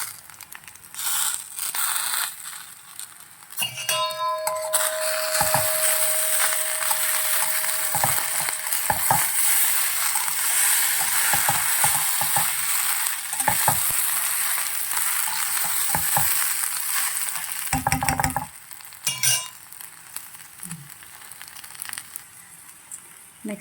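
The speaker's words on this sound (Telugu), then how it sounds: "ఇలా ఆయిల్లోనే ఫ్రై చేసుకోవాలండి అన్నీ." Okra frying in oil with spices for a ladies finger chutney, a steady broadband sizzle running throughout, broken by repeated scraping stirs and occasional clinks of a spoon against the pan.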